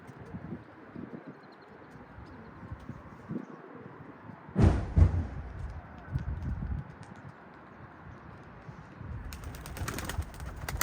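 Tumbler pigeons outdoors, a soft flurry of wing flapping midway through steady ambient noise, with faint cooing and rustling around it.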